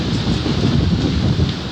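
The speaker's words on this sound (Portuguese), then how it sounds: "Caraca, que vento é esse?" Strong wind from a cyclone battering Marataízes amid heavy rain roars in a dense, continuous rush with gusty buffeting against the microphone, loud and close throughout.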